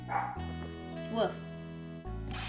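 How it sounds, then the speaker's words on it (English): Dog barks in the Phoenix Wright: Trials & Tribulations courtroom game: a couple of short yips over steady game music, with a voice talking through it. "Now my dog is barking."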